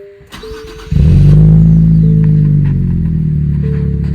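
A Nissan Z fitted with a new titanium exhaust cranks and starts up, a loud deep rumble swelling into a brief rev and settling into a steady idle, heard close with no talk and a faint tone in the background.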